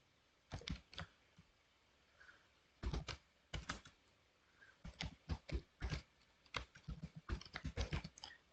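Fingers type code on a computer keyboard, a quiet close-up clatter of keystrokes that come in short irregular bursts with brief pauses between them and no talking.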